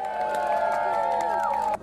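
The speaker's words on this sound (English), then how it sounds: "Give them a cheer!" An audience at a chilli eating contest at the Scotland Chili Festival, Scone Palace, cheers and whoops in a dense, continuous burst of crowd noise that cuts off abruptly near the end.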